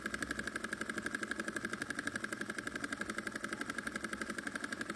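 A miniature Dongfeng diesel engine, crank-startable, running at low throttle with a quick, even, pulsing chug and a steady metallic whine, close by with no talking.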